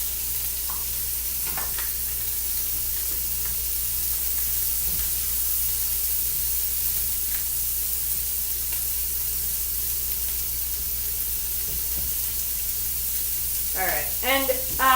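A burger patty cooks in a hot pan, giving a loud, steady sizzle and hiss that runs throughout, with a faint clatter and brief voice-like sounds near the end.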